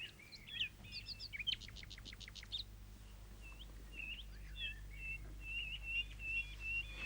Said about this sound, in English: It was a nightingale, further west than it should have been.